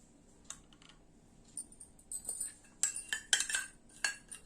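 A spoon stirs a teaspoon of honey into fresh ginger juice, producing light, irregular metallic clinks and taps against a cup, sparse at first and then clustering into quicker bursts.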